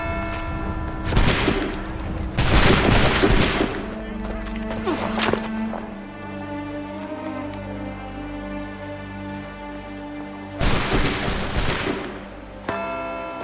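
Musket volley fire in the Assassin's Creed III video game: loud crackling bursts of massed shots, one group near the start and another after a long pause, with game dialogue and music in between.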